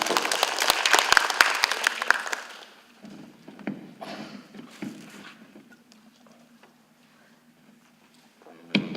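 Audience applause at an IT management forum session, a dense burst of clapping for the first two seconds that thins out quickly, followed by scattered taps and low room murmur.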